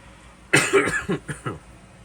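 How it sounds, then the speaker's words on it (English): A single harsh cough bursts out, followed by a few shorter, fading coughs in quick succession, close up against a quiet background. "I'll continue to apologize for my horrible cough"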